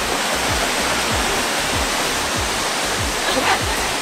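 A waterfall outside a hotel room in Hawaii rushes as a steady, loud, dense roar throughout, with faint rhythmic low thuds beneath.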